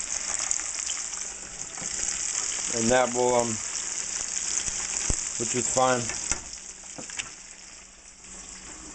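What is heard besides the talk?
homemade French fries potatoes frying in overloaded pan of oil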